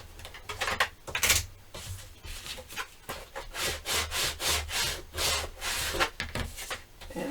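A bone folder is rubbed firmly around the edges of paper for a Halloween mini scrapbook album, making a steady series of close, dry scraping strokes in an even rhythm with no talking.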